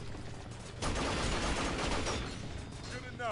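Sustained rapid gunfire from the Binary Domain video game rattles in a dense, loud burst lasting a couple of seconds. A brief electronic chirp follows at the end.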